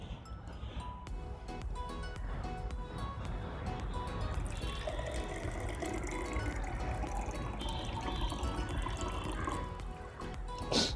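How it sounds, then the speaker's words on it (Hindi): Water is poured into a container already holding oil and food colour, a steady splashing, gurgling stream lasting several seconds, close and moderately loud, with faint background noise. "अब इसमें हम डालते हैं पानी,"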